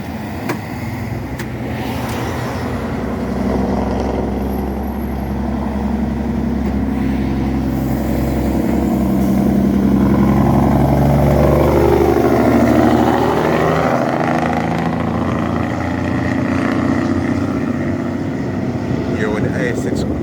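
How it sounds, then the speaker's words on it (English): A truck hauling along a Jamaican highway, its engine giving a steady low drone with road and wind noise that rises and falls slightly over about twenty seconds, with someone talking over it. "the truck sound quieter than usual, you know."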